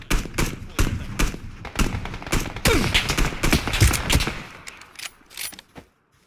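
Rapid bursts of gunfire in a shooting video game crackle close and loud, volleys of shots coming in quick clusters before fading to a few scattered shots.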